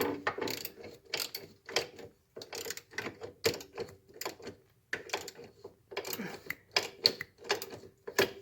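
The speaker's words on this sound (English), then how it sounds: "you can tighten up these caliper bracket bolts." Ratchet clicking in repeated short bursts as caliper bracket bolts on a Polaris ATV are tightened, close and fairly loud with brief pauses between strokes, no voices.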